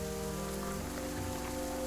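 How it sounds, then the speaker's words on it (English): Steady rain falls in the video game The Banner Saga 2 as a caravan crosses a muddy bog, a dense, even patter with soft tonal music sustained underneath. "The darkening sky lets loose in its rain, and soon fat drops of water turn the dirt path into sucking mud"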